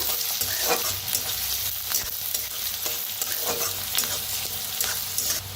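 Onions sizzling in hot oil with curry leaves and red Kolhapuri chili powder, being stirred in a pan; a steady close crackle with scraping stir strokes running throughout.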